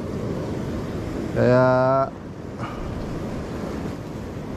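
Rough sea surf at low tide rolls as a steady broadband wash with wind buffeting the microphone, while someone briefly speaks over it.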